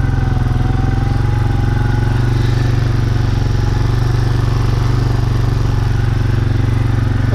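Quad bike with a fertilizer spreader running, spreading about 2 kilos; a loud, steady low engine drone with a constant throbbing rumble, close up and continuous throughout, with no talking.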